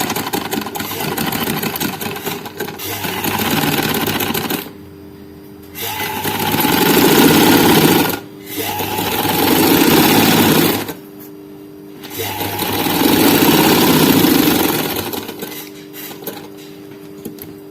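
Sewing machine stitching fabric for underwear, three long bursts of loud, close, fast mechanical whirring separated by short pauses.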